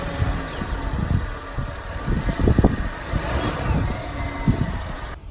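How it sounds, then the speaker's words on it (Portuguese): A 2020 Fiat Mobi 1.0 engine idles steadily, a low continuous rumble with slight fluctuations, heard up close with no talking. "Vamos escutar agora um pouco o barulho do motor."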